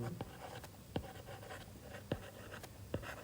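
A marker or chalk writes out a proportion on a board, making sharp scratchy strokes and taps spaced through the short clip, fairly close and quiet, with no speech.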